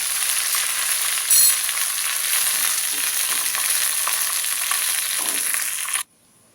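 Curry leaves and dried red chillies fry in hot oil for a pachadi tempering, giving a loud, close, continuous crackling sizzle with a brief sharp spit early on before it abruptly stops.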